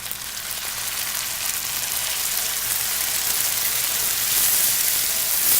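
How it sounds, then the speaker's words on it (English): A hot pan sizzles steadily as Pinot Grigio white wine is poured in to deglaze after pancetta, a loud, continuous crackling hiss that swells slightly toward the end, with no talking. "And we're going to deglaze with a little white wine."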